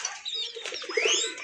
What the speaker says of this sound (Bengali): ভাই চলেন আমরা ছেড়ে দেখাই কবুতরগুলো।